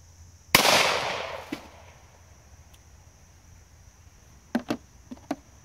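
A single sharp gunshot from a Kel-Tec PMR 30 .22 Magnum pistol cracks loudly outdoors and rings out, followed a few seconds later by several fainter snaps and ticks.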